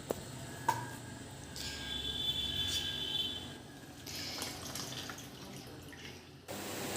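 Grated potato rinsed under a running kitchen tap: a soft, quiet splash of water that builds for a few seconds and then fades, with a few faint clicks and knocks around it.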